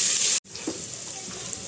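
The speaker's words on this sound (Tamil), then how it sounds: "இந்த வெங்காயத்தை கொஞ்சம் நல்லா வதக்கி எடுக்கலாம் ஃப்ரெண்ட்ஸ்" Onions sautéing with curry leaves in a pan for a Tamil goat-head curry, a steady broad sizzle filling the clip, broken by a brief silent gap before the frying resumes.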